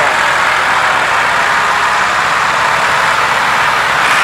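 A Massey Ferguson tractor engine idling steadily up close, a constant low rumble with no voices.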